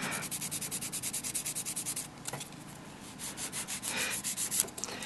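A nail file rubs back and forth across acrylic nails, making soft rhythmic rasping strokes in a steady series that pauses briefly and then resumes, faint and close with no talking.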